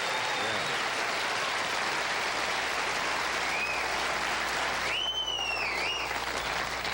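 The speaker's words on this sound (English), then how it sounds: "Friends, yes, you may applaud the great NBC officer and Doc." Studio audience applause on a late-night talk show fills the whole stretch, steady and dense at moderate level, with a brief whistle-like tone rising near the end.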